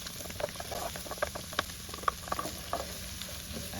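Onions frying with beef in a skillet for a spicy keto steak dish, giving a steady close sizzle with scattered small pops and crackles throughout.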